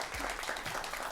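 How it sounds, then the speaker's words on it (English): An audience applauding a coach receiving a coach of the year award at a high school quiz bowl event, a continuous wash of many hands clapping at moderate distance. "One more round of applause."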